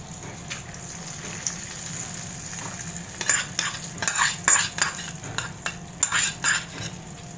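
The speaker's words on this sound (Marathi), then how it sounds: "तर आता आपण ही जी फोडणी आहे यावरती घालूया" Hot tempering poured over white coconut chutney, the Udupi hotel style served with idli and dosa, sizzling in bursts over steady frying crackle, followed by a spoon stirring it through, close and alone.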